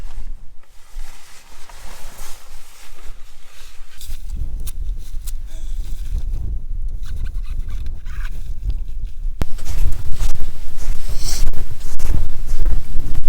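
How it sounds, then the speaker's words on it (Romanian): Strong wind blows across a mountain peak near La Pinareja, a steady, loud roar buffeting the microphone, swelling with heavier gusts toward the end. "Bate vântul aici"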